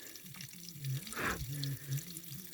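Water draining from the engine of a Thiokol Snowcat being serviced, a quiet trickling flow with a few louder splashy gushes, heard close up and alone.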